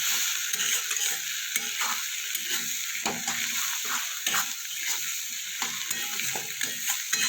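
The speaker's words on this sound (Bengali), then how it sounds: "এবার সব কিছু মশলা একসাথে ভালো করে কষিয়ে নেব।" Spices with turmeric are stir-fried in a hot pan, giving a continuous close sizzle broken by repeated scraping and stirring strokes from a spatula.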